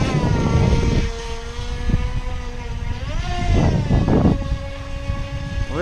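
Top Race TR-1200 RC speed boat at full throttle on a river, its electric motor whining loud and steady with rising pitch, rushing water and spray bursts alongside, no talking.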